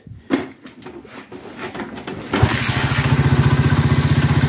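A four-speed motorcycle cranks over briefly, then catches and settles into a steady, throbbing idle with a regular pulsing beat, heard up close with no one talking.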